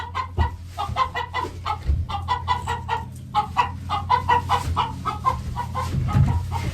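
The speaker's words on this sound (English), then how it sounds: "She's squawking because she wants to lay in the corner that the other one's laying in" Hens cluck and squawk in repeated short bursts through a chicken coop where one hen wants to lay in another's nesting corner, with occasional louder calls and fowl voices close to the microphone.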